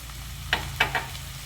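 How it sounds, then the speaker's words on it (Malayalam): Onion, green chillies and tomatoes sautéing in a pan, a faint soft sizzle under a low hum, with three short scraping stirs close by. "ഇപ്പം നല്ല രീതിയിൽ വഴറ്റിയെടുക്കാം"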